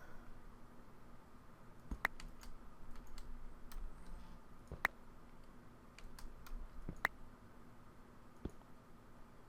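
Computer mouse clicks during PC gameplay, a handful of sharp, faint isolated clicks spaced a couple of seconds apart over quiet keyboard-like tapping.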